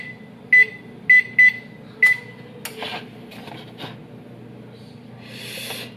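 An oven control panel beeps while being set to 350 Fahrenheit in a home kitchen: four short, clear electronic beeps in quick succession, followed by soft handling clicks and a brief hiss, all fairly close and without talk.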